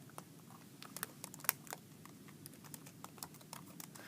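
Typing a web address on a laptop keyboard: light, quiet key clicks tap out in an uneven, steady patter over a soft background hum, with no talking.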